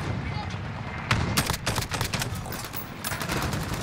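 Dense bursts of automatic gunfire in Call of Duty: Modern Warfare, loud and continuous, rattling through the whole stretch with heavy background game noise.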